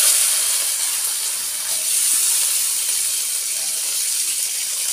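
Turkey berries sizzle in hot oil in a pan, giving a steady, close, bright frying hiss that holds at an even loudness throughout, with no voices over it.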